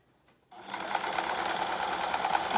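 A household sewing machine runs a basic straight stitch on window valance fabric, starting after a brief quiet moment and then whirring steadily and closely at an even, rapid pace, with no talking.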